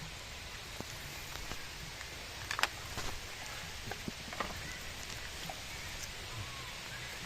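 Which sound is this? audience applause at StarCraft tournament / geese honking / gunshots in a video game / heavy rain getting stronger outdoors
heavy rain getting stronger outdoors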